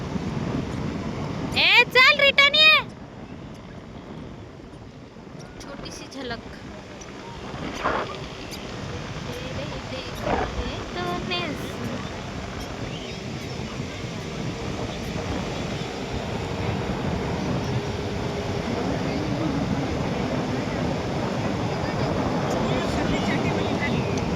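Sea waves washing onto Diveagar beach, a steady broad surf roar with wind buffeting the microphone, building gradually louder over the span, with a brief louder rustle near the start.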